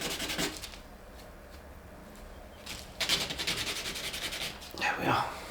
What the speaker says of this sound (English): It goes even faster if you use coarser sandpaper.